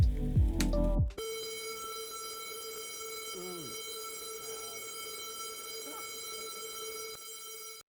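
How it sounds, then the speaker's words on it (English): Fire alarm sounding indoors amid vintage electronics: a steady, buzzing electronic tone holds for about six seconds after a short noisy start, with faint voices murmuring beneath it. "That was a fire alarm."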